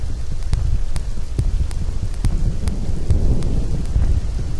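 Rain falls steadily at night in the village of Cijeruk, Banjarnegara, with low rumbling thunder throughout and sharp drops or clicks striking close by at irregular intervals.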